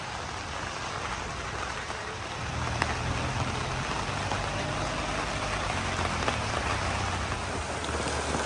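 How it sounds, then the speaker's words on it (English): Rain patters steadily on a surface outdoors, a dense even hiss that thickens slightly partway through, with a faint low engine idle beneath. "And the rain begins."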